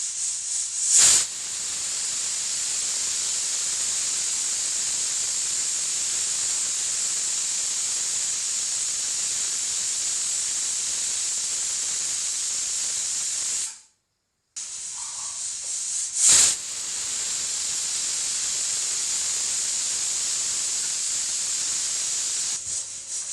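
A pressure cooker full of vegetable rice on a gas stove releases steam in a loud, steady hiss that runs for long stretches, broken by a brief silence and a couple of sharper bursts.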